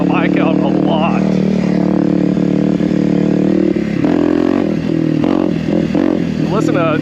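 A Kawasaki KLX300R dirt bike fitted with an FMF Powercore 4 exhaust runs loud and close, its engine note rising and falling through throttle blips with some clatter, while a voice talks over it.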